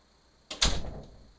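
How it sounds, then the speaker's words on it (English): A door blown by the wind bangs shut once, a sudden loud thud that fades into a short rattle, with quiet room hiss before and after. "Excuse the door,"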